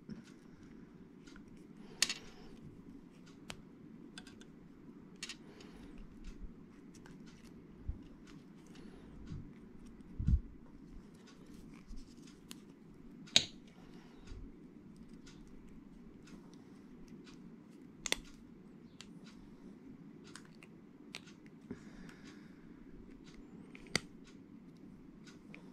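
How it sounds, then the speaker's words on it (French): Scissors cut paper to make paper beads in a quiet room: faint, sharp snips come one at a time at irregular intervals, separated by near silence. "je vais venir couper"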